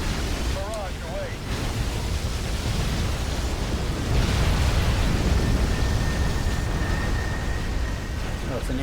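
Artillery barrage in the Halo Wars real-time strategy game, a sustained roar of rumbling explosions blending into a dense, wash-like boom that swells midway, with brief whistling tones early on.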